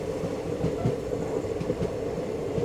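The 16779 Rameswaram Express arriving at Tiruvannamalai station gives a steady, even rumble of rolling wagons with faint rail clatter, close and constant throughout.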